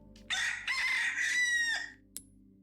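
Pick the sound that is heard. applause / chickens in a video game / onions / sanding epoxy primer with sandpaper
chickens in a video game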